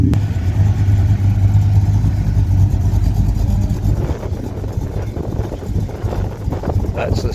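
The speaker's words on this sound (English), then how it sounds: "That's the sound the Holden should make." A Holden car's engine at an outdoor car meet: a loud, close, steady deep rumble that swells as it is revved, with wind buffeting the microphone throughout.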